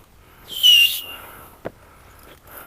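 A single loud, shrill whistle of about half a second rises over faint background noise, followed by a short knock and quiet sounds.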